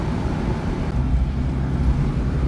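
A Fiat Panda Young from 2000 pulls uphill in fourth gear, its engine droning as a steady low rumble, loud and continuous, with heavy wind buffeting the microphone throughout.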